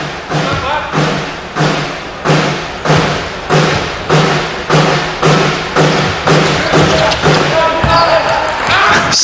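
Drum banged by the crowd at a men's basketball bronze medal match at the SEA Games, Singapore against Thailand, loud steady thuds about once per second, like a dustbin lid, under arena noise and commentary.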